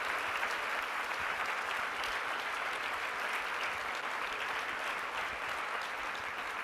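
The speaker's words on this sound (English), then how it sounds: "join me in giving these people a round of applause" Steady audience applause honoring business leaders at a corporate event, an even, dense wash of clapping from a sizable crowd lasting several seconds without talk.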